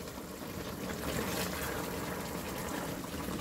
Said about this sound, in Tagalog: And then, maglalagay na tayo ng tubig.